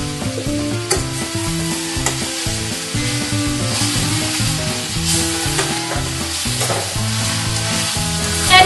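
A pot of Russian borscht broth made with chicken is stirred as it cooks, giving a steady bubbling, sizzling churn with scraping movement throughout and no voices.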